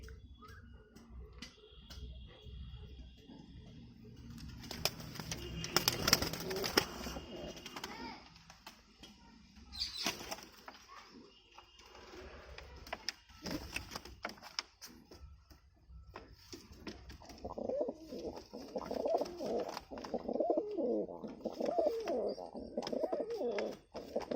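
Pigeons coo repeatedly at low volume amid rustling and a few sharp bursts that could be wing flaps, with ticking sounds scattered throughout.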